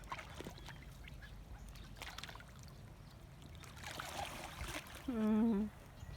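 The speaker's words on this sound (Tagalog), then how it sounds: "see, look at this duck. They are coming." Ducks at a green pond in Somerset, Bermuda, give a short, loud quacking call near the end, over faint water and outdoor ambience.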